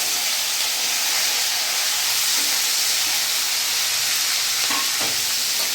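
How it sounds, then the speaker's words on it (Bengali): Chopped vegetables, including jackfruit seeds, sizzle loudly and steadily in hot oil tempered with bay leaf, dried chilli and panch phoron, a dense continuous frying hiss close to the pan with no talk. "আমার এখানে কেটে রাখা সবজিগুলো আমি পুরোটা দিয়ে দেবো।"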